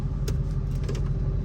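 Low, steady engine rumble of a 2021 Dodge Charger SRT Hellcat Redeye, heard from inside the cabin as a close, continuous drone with faint clicks over it.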